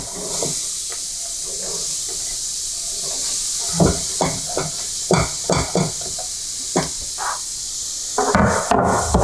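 Onion hits hot spices in a pan, a steady hiss and sizzle running throughout, with scattered stirring scrapes and clicks growing busier toward the end; no talking.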